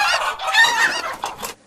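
Chickens clucking in an 8-bit style video game, a short loud burst of several clucks and squawks up close, then quiet.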